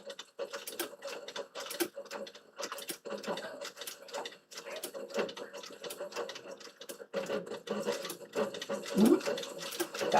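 Sewing machine stitching a leather ladies clutch, with uneven bursts of rapid mechanical clatter and ticking, close and moderately loud, and a voice speaking at times.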